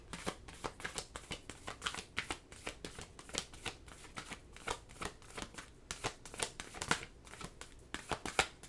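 Oracle cards being shuffled by hand, a long run of quick papery riffles and flicks in uneven bursts, close and soft, with no talking over them.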